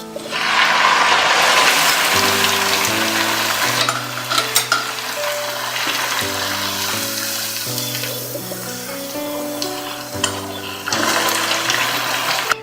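Bread packet noodles frying in hot oil until golden as an evening snack, a loud bubbling sizzle throughout with music playing over it and short clanks of a utensil.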